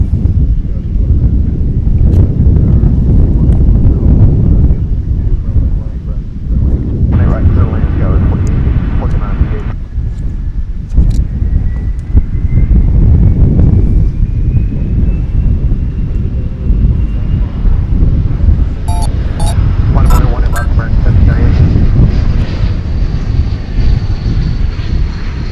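Jet airliner taking off from runway 18 Left at Dallas/Fort Worth International Airport, a loud sustained engine roar with wind buffeting the microphone, while people talk over it and radio chatter plays throughout.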